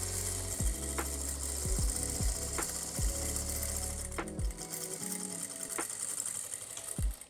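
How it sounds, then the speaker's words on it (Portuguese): A domestic sewing machine runs a seam on a fairly short stitch length, its needle motor whirring and clattering steadily. The fabric is briefly repositioned several times, with short pauses and restarts, and no one speaks. "E vou bater um pé de máquina."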